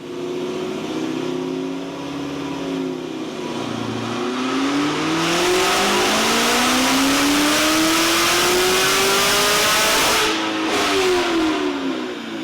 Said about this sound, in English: we're going to run this thing up on the dyno a couple more times, and we'll see what kind of power it makes